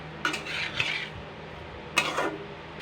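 Okra being stir-fried with spices in a pan over medium heat, a metal spatula scraping and clinking against the pan in two short bursts with quiet gaps between, close and fairly clear, no voices.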